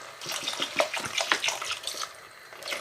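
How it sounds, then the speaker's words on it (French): About 500 ml of water poured into a pot of oriental-style lentil and potato stew, a close, splashing gurgle lasting a few seconds, heard on its own. "je vais mettre environ 500 ml d'eau"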